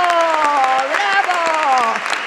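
Audience applause after a panel on health, a steady dense wash of clapping with shouted voices calling out over it throughout.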